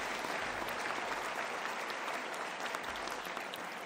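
Audience at an Aston University graduation ceremony applauds steadily, a dense, even wash of many hands clapping that holds at full strength from start to finish.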